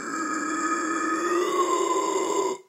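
A low inhale scream used as a vocal technique, with the mouth rounded and the throat open: one sustained, gritty, guttural breath-in roar lasting about two and a half seconds at steady loudness, then cutting off abruptly.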